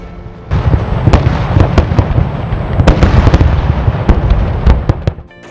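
Light fountains and loud firecrackers going off in a dense, continuous barrage of crackles and sharp bangs, with louder pops punctuating the steady roar.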